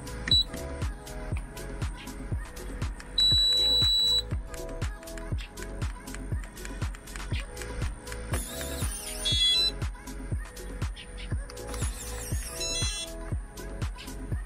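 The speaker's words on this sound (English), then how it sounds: "once it starts beeping, we will start to hit the lock button on our fob" An RV door lock in fob learn mode gives a steady train of short, rapid beeps or clicks at an even pace, with a few brief higher tones mixed in.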